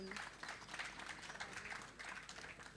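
An audience claps steadily at an award ceremony for the Bharat Gaurav Achievement Award, a continuous, fairly faint patter of many hands with no break.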